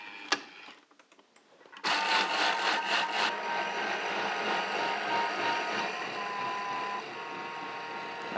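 A mixing machine blends yuzu cream with sugar, heated to 80 degrees, starting after a brief clatter and then whirring steadily and loudly with a faint tonal hum, easing slightly near the end.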